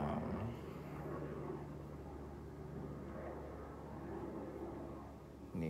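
A helicopter flies overhead, giving a steady, continuous low rotor and engine rumble that holds at an even level throughout with no other sounds on top.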